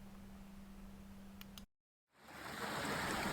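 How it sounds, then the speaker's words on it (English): A small stream runs beside a bucket on a rural property, giving a soft, steady rushing hiss that cuts out into brief silence midway and then returns louder. "you can see the stream right here next to the bucket"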